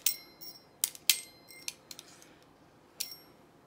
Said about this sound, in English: A little jingle bell action.